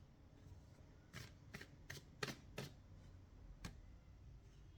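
Tarot cards being shuffled and drawn, a quiet series of sharp, crisp riffles and snaps spaced irregularly over a soft, hushed background with no talking.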